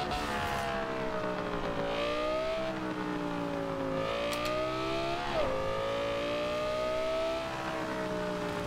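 A 2013 Audi R8 engine in the racing game Forza Horizon 2, revving loud and near with its pitch repeatedly climbing and dropping as the throttle opens and lifts.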